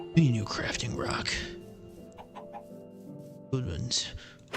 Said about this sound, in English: Chicken jockey!